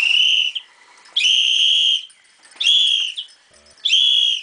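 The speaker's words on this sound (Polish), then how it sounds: "Nie gwizdaj tak głośno." Loud human whistling at a swimming pool, four long shrill blasts in a steady on-off rhythm, each lasting about half a second to a second, close by with brief gaps between.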